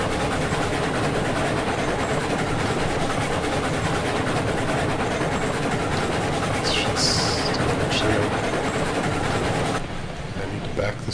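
A train in the video game Railroads Online rumbles continuously with a dense, heavy rolling roar and some brief higher squeals, steady throughout before easing slightly at the end.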